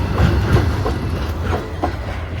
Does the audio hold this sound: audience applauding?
no